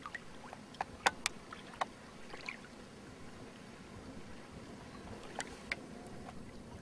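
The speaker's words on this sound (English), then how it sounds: "I'm paddling." Paddle strokes on a lake with a canoe, a few sharp splashes and drips scattered irregularly near the boat over soft background water noise, with no talking.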